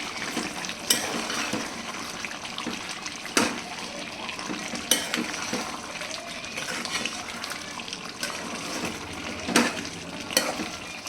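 Country chicken pieces are mixed with cumin powder in a cooking pan, a steady scraping and stirring over soft sizzle, with a few sharper clinks of the spoon against the metal standing out near the start, middle and end.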